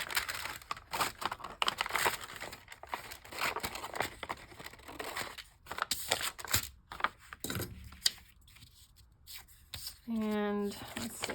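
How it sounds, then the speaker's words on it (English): Paper crinkling and rubbing as the back is cut off a patterned business envelope for a junk-journal tag, with intermittent close scraping and rustling under a talking voice. "So let's cut the back off of here."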